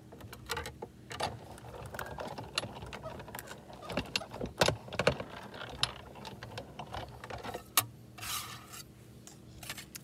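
A die cutting machine presses a sweater card die through card stock, producing a string of close mechanical clicks, ratcheting and scraping rubs with irregular sharper knocks throughout.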